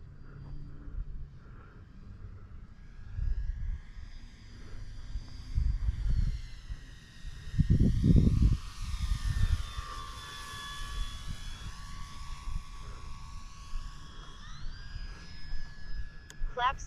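RC model airplanes, a Viper and a Turbo Timber Evo, flying over a runway in fine weather, their engine whine sweeping up and down in pitch as they pass at a distance, with someone speaking and handling noise nearby.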